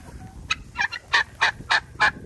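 Farm birds at a neighbor's house, likely turkeys, call in a run of five or six loud, close, rapid gobbling bursts spaced evenly apart over a quiet outdoor background with no talking.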